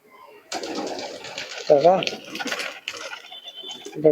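Pigeons at a pigeon sale give a few short cooing notes, mostly buried under someone talking nearby, with a clearer coo near the middle and another at the end.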